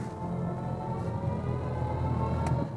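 Inside a BMW iX2 electric car in expressive drive mode, a soft synthetic tone composed by Hans Zimmer hums steadily beneath faint road and cabin noise, rising slightly in level as the car moves.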